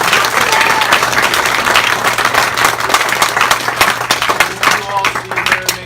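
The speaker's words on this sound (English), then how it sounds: "let's give her a round of applause anyway." Town hall audience applauding: dense, sustained clapping from a sizable crowd, loud and continuous throughout, with scattered sharper claps standing out.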